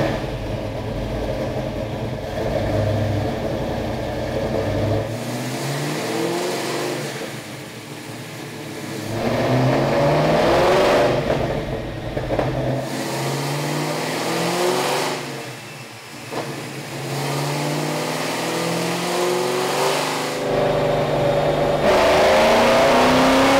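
A 1988 Fox Body Mustang with a 393ci Windsor stroker V8 pulls hard on a chassis dyno: a loud, close engine roar climbs in pitch through several long full-throttle runs, separated by brief dips back toward idle.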